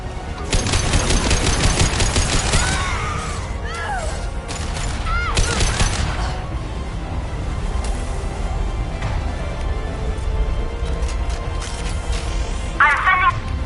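Gunfire in a PS4 game: rapid, loud bursts of automatic shots in the first seconds and again near the middle, then sparser shots later, with a voice speaking throughout.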